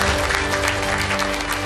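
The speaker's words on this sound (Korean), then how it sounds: "큰 박수를 주시기 바랍니다." Audience applause at a Korean People Power Party presidential candidate Yoon Suk-yeol event, welcoming Seoul mayor Oh Se-hoon; dense, steady clapping from a large crowd fills the short stretch without pause, with a low hum underneath.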